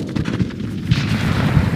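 A Diwali firework goes off with sharp, gunshot-like booms over a low rumbling background, several loud thuds spaced across a couple of seconds, close and outdoors.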